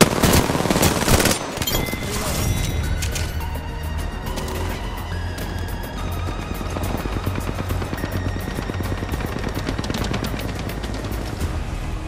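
Rapid automatic gunfire from a battle in the shooter game Apex Legends, dense and continuous bursts of loud, cracking shots that stay up close throughout, with no talk over it.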